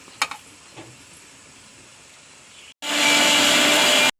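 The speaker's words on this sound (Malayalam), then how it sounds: "നമുക്ക് മല്ലി പൊതിനൊക്കെ അടിച്ചെടുക്കാം" A mixer grinder blends coriander, mint, ginger and garlic for Thalassery dum biryani, starting suddenly after a couple of faint knocks and whirring loud and steady for about a second and a half before cutting off.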